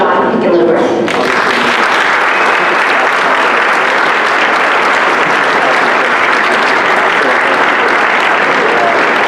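A large crowd at a community public policy forum breaks into sustained applause for Governor John Hickenlooper, a dense wash of clapping that starts abruptly after a brief voice and holds steady and loud.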